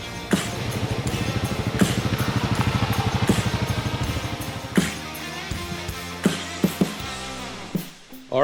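Honda Trail CT125 motorcycle riding down a road in East Tennessee, its small engine chugging in a steady pulsing rhythm close up, then easing off with clattering knocks and bumps toward the end.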